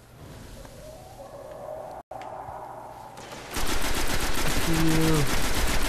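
A weak gun fires in the Destiny video game as a loud burst of rapid shots that starts partway in, following quieter game ambience, and a voice speaks briefly.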